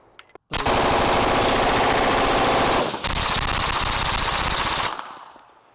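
A rifle fitted with an Atrius Super Selektor rattles off a full magazine of 115 grain ammunition in two long, rapid bursts split by a brief pause, loud and close, with no voices.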